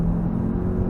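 A car engine held at full throttle on the Nürburgring Nordschleife drones low and steady from inside the cabin, a dense constant roar over the short moment.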